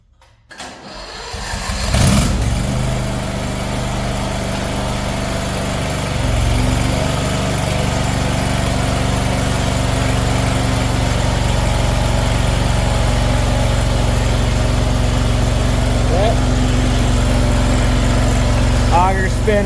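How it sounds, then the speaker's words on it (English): The engine of a CRT23 starts and runs steadily while its hydraulic auger spins, a loud constant drone that holds for the rest of the clip, with brief talk near the end. "auger spinning good."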